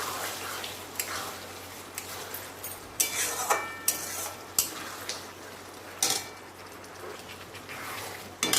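Sugar being stirred into a cooking chutney in a pan, with repeated sharp spoon scrapes and clinks against the metal over a faint simmering sizzle, close and without talk.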